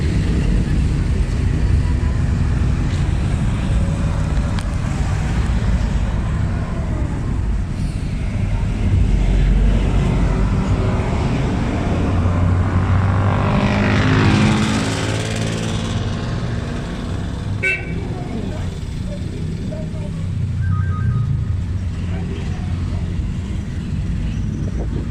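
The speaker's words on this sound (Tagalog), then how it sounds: "Maingay yung mga sasakyan." Traffic roars past continuously at moderate distance, one vehicle swelling louder midway, with some talking faintly mixed in.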